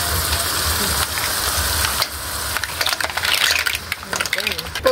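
Mussels dropped into a hot sauté pan with sautéed aromatics set off a loud, bright sizzle, joined by clattering shells and stirring knocks as they settle, with a voice speaking over the frying.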